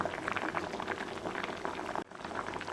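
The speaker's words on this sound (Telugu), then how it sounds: "మంచిగా మరగనివ్వాలి టమాటాలని." Tomatoes boil in a pot of water for rasam, a steady close bubbling and popping simmer that runs continuously with no voices.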